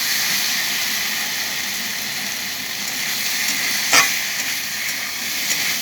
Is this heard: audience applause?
no